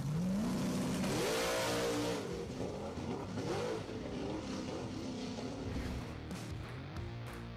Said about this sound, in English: Racing Mustangs have a lot of explosive power that sometimes leads to similar incidents at the start.